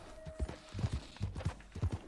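Rhythmic clip-clop of a horse's hooves as a rider travels on horseback in a video game, a steady series of close, moderately loud hoofbeats in uneven pairs, with a brief high tone near the start.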